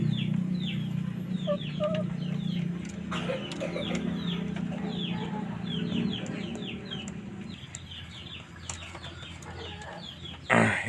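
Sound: chickens clucking

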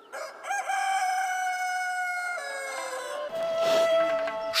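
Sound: rooster crowing among village farm animals

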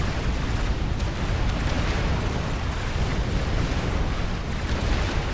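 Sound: cruiser missile fire explosions in the video game Forged Alliance Forever

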